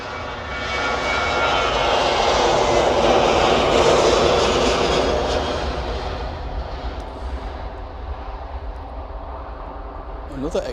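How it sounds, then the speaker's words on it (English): A Ryanair airliner on an extended landing roll at Manchester, its engine roar swelling loud and broad before fading away as the jet rolls out, with people chatting faintly toward the end. "Another extended roll from Ryanair."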